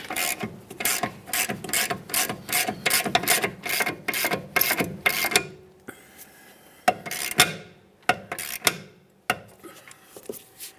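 A hand ratchet clicks rapidly and evenly as it loosens a 15mm caliper bracket bolt on a 2009-2019 Ford Flex rear brake. A few slower, separate clicks and clunks follow after a short pause. The sound is close and dry, with no talking.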